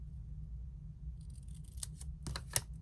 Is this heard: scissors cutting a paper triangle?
yes